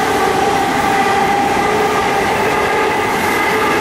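A packed twelve-carriage commuter train bound for Fenchurch Street rushes past close by, with a steady loud roar and rattling wheels throughout.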